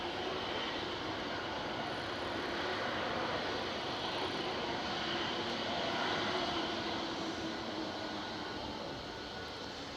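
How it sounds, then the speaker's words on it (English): Virgin Airbus A350-1000 airliner departing Manchester Airport: a steady, broad jet roar heard from a distance, even and continuous throughout, with no voices. "Virgin's A350-1000 VNVR is pushing back, heading back to Orlando"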